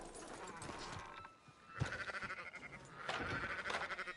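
Sheep in Red Dead Redemption 2 bleat in quick, wavering bursts, one after another, fairly close, with some rustling noise in between.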